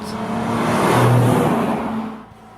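Nissan 370Z Nismo engine pulling hard on a twisty mountain road, a sustained loud drone that swells and holds before easing off toward the end, with no talk over it.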